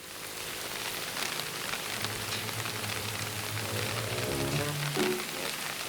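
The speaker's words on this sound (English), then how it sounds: "It's just rain." Steady rain patters on a hard surface close by, a continuous hiss of drops, with a faint low tone humming underneath partway through.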